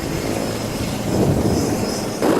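Indian Air Force Chinook helicopter flying at night over Ladakh, a loud, steady rotor and turbine roar that swells midway and holds throughout.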